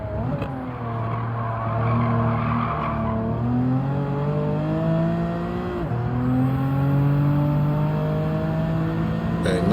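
Race car engine in Gran Turismo 7 holds a loud, steady drone with pitch rising and dropping through gear changes and corners, tires squealing and skidding as the twitchy, understeering car is pushed around bends.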